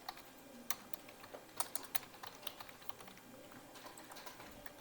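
Keystrokes tapped on a computer keyboard while a project name is entered in Premiere Pro CS6, a brisk irregular run of light clicks with a few sharper hits, alone and fairly close.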